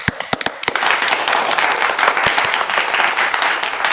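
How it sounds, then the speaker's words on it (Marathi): A classroom crowd at a coaching academy breaks into applause for a student: a few scattered claps at first, then steady, dense clapping from many hands that carries on to the end. "सगळ्यांनी टाळ्या होत्या रे."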